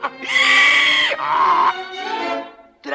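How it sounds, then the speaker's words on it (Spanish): A cartoon donkey bray from the 1940 Pinocchio film, a loud, strained, wheezing hee-haw in several rising and falling pulses, close and dominant. "Hey, you laugh like a donkey."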